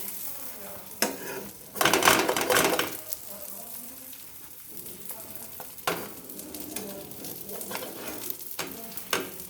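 A paratha frying in a pan: steady close sizzle punctuated by louder bursts of crackling and scraping as it is turned and pressed.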